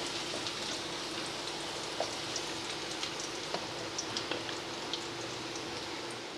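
Bay leaves, green cardamom, cloves, cinnamon and chopped garlic fry in hot oil for a fish curry, giving a steady close crackling hiss with small scattered pops throughout, no voices.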